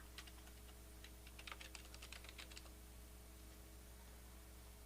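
A name is typed on a computer keyboard as a quick, faint run of soft key clicks in the first half, then a quiet room hum with no further keystrokes.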